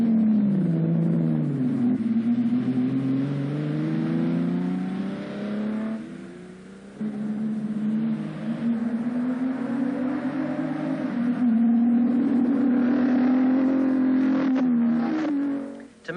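Ferrari GTO front-engine sports racer revving hard: a loud, continuous engine note that climbs and falls in pitch through several pulls, close by and with no voices.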